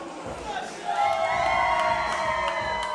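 A wrestling show crowd cheers and whoops for the defending champions, a dense roar of many voices that swells and then holds steady, loud and filling the hall.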